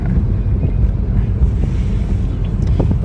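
A noisy vehicle running fast on a road trip gives a loud, steady low roar with constant wind buffeting throughout, close to the microphone and without talk.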